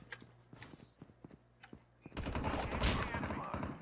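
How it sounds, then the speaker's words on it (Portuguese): Gunfire in the Call of Duty Mobile video game: scattered single shots crack at first, then a loud, sustained burst of rapid automatic fire fills the rest. "Estão atirando na guerra, meu parceiro."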